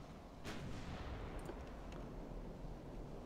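Naval guns of 9-inch and 5-inch calibre fire in the warship game Ultimate Admiral: Dreadnoughts: one sharp, heavy blast is followed by two lighter reports, over a constant low rumbling roar of battle.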